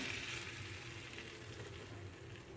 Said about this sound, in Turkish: unumuzu kokusu çıkasıya kadar böyle hafif rengi sararıncaya kadar kavuruyoruz